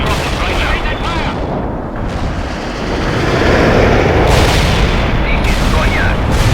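Artillery fire in the strategy game World in Conflict: a continuous, loud barrage of booms and rumbling blasts that swells in the second half, with radio-style unit voices talking over it.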